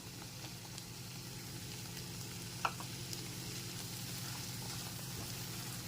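Sweet corn is frying in a pan with tomato paste, giving a steady, soft sizzle with a faint crackle throughout and one brief click near the middle.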